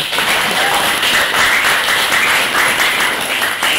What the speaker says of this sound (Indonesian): Tepuk tangan untuk Teguh.